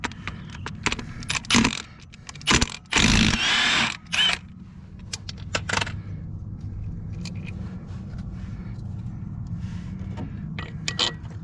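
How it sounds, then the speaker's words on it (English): A wrench removes a 22mm nut from a semi truck drive wheel: a run of sharp metallic ratcheting clicks and clanks, with several longer loud bursts early on, then quieter intermittent metal taps against steady background hum. "So I'm gonna take this nut off here, and yeah, it's 22mm."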